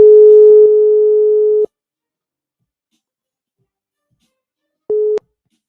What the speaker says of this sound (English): you got to Suffer the ringing for a little while